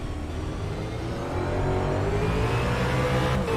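V8 race cars power out of a hairpin onto the main straight at Pukekohe, engines droning loud and steady as they accelerate, with no voices over the roar.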